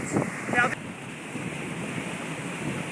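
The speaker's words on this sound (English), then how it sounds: "the surge is coming in and flooding. Serious flooding is beginning to occur." Hurricane Sandy storm surge on the north shore of Long Island, steady rushing wind and surf noise with a couple of brief louder splashes at the start, continuous and fairly loud.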